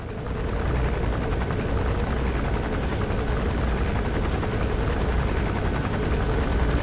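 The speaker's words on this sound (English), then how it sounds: "Just trying to get a feel for the pattern of the chopper as well." A helicopter circles overhead in Metal Gear Solid V: The Phantom Pain, a loud, steady rotor thrum with a continuous chopping rhythm that holds through the whole stretch.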